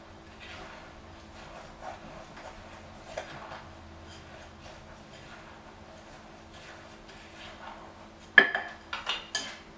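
Oatmeal cookie dough with cinnamon being stirred in a bowl, mostly soft faint scraping at first, then a burst of louder clinks and knocks of utensil against the bowl near the end.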